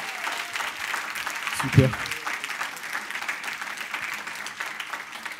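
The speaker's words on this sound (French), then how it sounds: "Est-ce qu'on veut l'applaudir, s'il vous plaît?" Applause at a baptism session rises as a steady wash of clapping around a brief louder burst, with a voice speaking over it.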